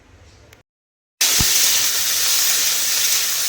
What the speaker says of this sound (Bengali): এদিকে ভাত ভাজার জন্য এই সবজিগুলো একটু ভাজতে দিলাম